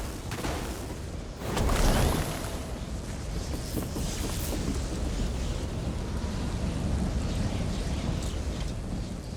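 Thunderstorm with lightning in the video game The Elder Scrolls Online: a loud rumbling crack of thunder swells near the start, then steady rain and wind roar on without a break.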